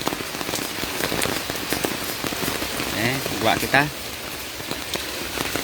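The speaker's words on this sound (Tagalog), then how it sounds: "Aga pa, ulan na." Early morning rain falls steadily as a broad hiss of drops on surfaces, with people talking over it and a few brief sharper sounds near the end.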